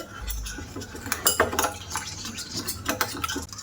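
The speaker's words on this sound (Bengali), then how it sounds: "এক চামচ জেলেটিন পাউডার নিয়ে নিয়েছি। নিয়ে এবার একটু ভালো করে গুলে নেব" A spoon clinks and scrapes steadily against the side of a bowl or glass while gelatin powder is stirred into water, a close, continuous rhythm of light metallic taps.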